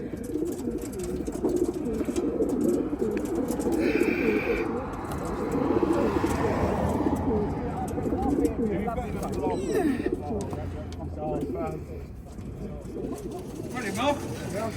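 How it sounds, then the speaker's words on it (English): Racing pigeons packed in transport crates before an old bird race give steady soft cooing and fluttering, close and continuous, with muffled voices nearby. "All the birds are in the crates."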